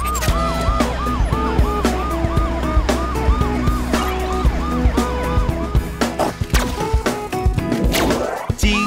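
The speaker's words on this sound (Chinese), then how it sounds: "警车警车滴滴呜滴滴呜" A cartoon police car siren warbles in quick, repeating rising-and-falling tones over upbeat background music, with the looping wail continuing steadily throughout.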